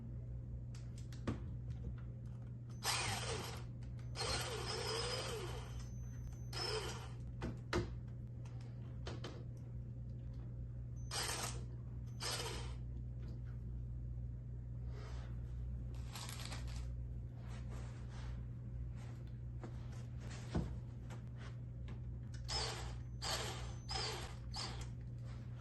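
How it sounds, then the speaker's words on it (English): Screws being driven to fix the side panel of a Dreo 8000 BTU inverter window air conditioner, heard as repeated bursts of close, crisp metallic scraping and clicking over a steady low hum. "So we're going to screw it on the side, down,"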